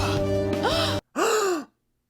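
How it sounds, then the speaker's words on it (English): A person gasps dramatically, two sharp voiced intakes of breath with swooping pitch, the first longer and the second shorter after a brief silence, loud and close. "everyone else was having their turn at gasping, so I figured I was required to do the same thing as well"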